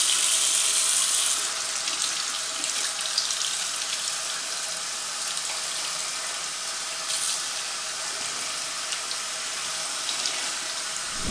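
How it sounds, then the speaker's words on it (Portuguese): Steady rush of cold water running from a bathroom sink tap while hair is wetted underneath it, a continuous bright hiss that fills the whole stretch with no talking. "Eu vou molhar meu cabelo na pia, embaixo da torneira mesmo."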